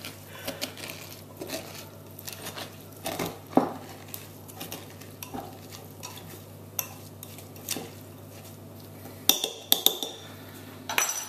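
Cabbage pounded and mixed in a bowl for spicy sauerkraut, a steady run of close, irregular thuds, crunches and clinks with sharper knocks toward the end.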